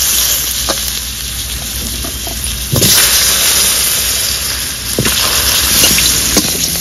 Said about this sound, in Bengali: এবার আলুটা ভেজে নেব মাছ ভাজা তেলে।